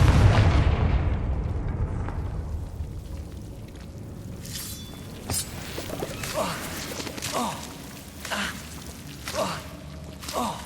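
Spell blasts from a fire-based combat spell in a fantasy wizard video game: a heavy boom opens, then decays into a long rumbling tail, followed by several sharper crackling impacts spaced about a second apart, loud and close.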